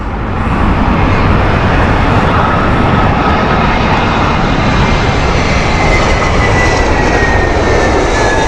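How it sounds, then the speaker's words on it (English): A British Airways shuttle jet from Inverness at Heathrow roars loudly and steadily with a broad, rumbling engine noise and a faint whine, close and continuous throughout. "The aircraft here is the Inverness flight from Shuttle Service,"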